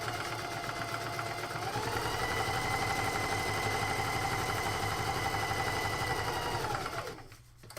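A sewing machine stitches fabric at a steady, rapid rhythm, close and continuous, then slows and stops near the end.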